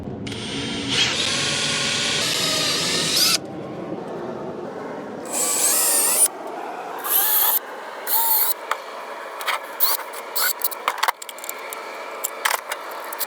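Power drill boring four screw holes for a Starlink dish mount, a series of loud whining bursts that start and stop, with short pauses between the holes and no voices.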